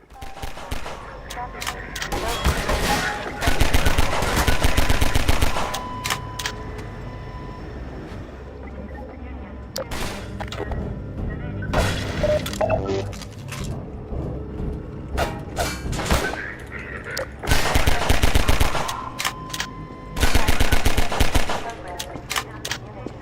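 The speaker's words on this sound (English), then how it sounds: "The gun will fire as fast as the player can click their input button" A pistol in the video game Half-Life 2 fires rapidly, producing repeated loud bursts of quick gunshots spread across the stretch, separated by quieter game ambience.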